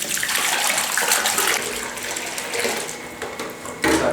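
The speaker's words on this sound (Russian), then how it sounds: "берем казан, наливаем 5 литров воды для эксперимента" Water pours steadily into a kazan pot, a loud splashing rush that shifts in pitch as the vessel fills, with a brief change near the end; no voices.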